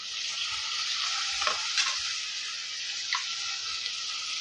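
Onions and tomatoes for a fish curry sauté in a pan, giving a soft, fairly faint steady sizzle with a couple of stirring scrapes, heard alone without speech.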